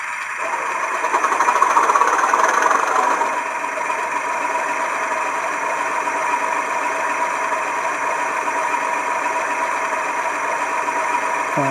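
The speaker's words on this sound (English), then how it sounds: "Much more deeper, throaty sound." A model engine, designated 37, runs close and steady with a buzzy, throaty drone, louder just after starting and then holding an even idle throughout.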